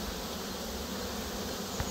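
Honeybees swarm in busy flight at a crowded Mini Plus hive entrance, a dense, steady buzzing hum that carries on unbroken without any voices.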